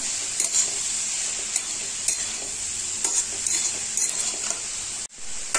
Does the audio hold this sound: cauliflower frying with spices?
yes